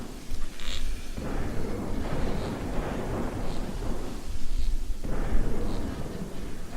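Heavy rain and rumbling thunder in a stormy scene from the video game Orphen: Scion of Sorcery, a steady broadband roar with louder surges, including a swell near the five-second mark, playing alone throughout.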